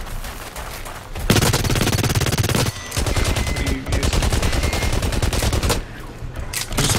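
A P90 submachine gun fires in the video game Blacklight, sustained and rapid. Loud bursts of automatic gunfire run almost continuously, with a few brief pauses between strings of shots.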